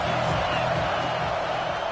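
Steady roar of a stadium crowd cheering at an OSU vs Ole Miss football game, a broad continuous wash of noise with no distinct peaks, filling the whole moment.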